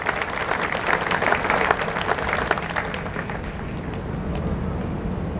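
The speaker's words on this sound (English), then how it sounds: "Let's give them a round of applause" An outdoor crowd at a Houston Veterans Day ceremony applauds steadily for over five seconds, loud, dense clapping that eases slightly in the second half, with no speech.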